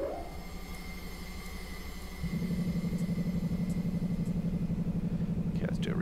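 Diesel locomotive engine in a train simulator game restarting and settling into a steady low idle, its rhythmic throb growing louder after a couple of seconds and running continuously, with faint background tones.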